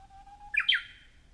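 Japanese bush warbler (uguisu) in a town, a thin sustained whistle followed by a bright rising two-part chirp, clear and fairly close against a quiet background.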